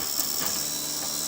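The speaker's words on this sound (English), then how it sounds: "this item which the CraftBot 3D printer is printing" A CraftBot 3D printer printing a soap holder gives a steady mechanical hum with a faint high whine and soft ratcheting clicks, running continuously up close with no talk.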